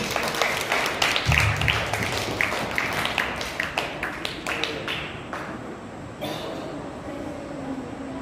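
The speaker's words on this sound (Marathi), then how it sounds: "सर्वांनी जोरात टाळ्या वाजवून" Children at a summer fitness camp clap for a prize-winning group, the claps sharp and uneven, loud at first and then thinning, with a brief low hum early on.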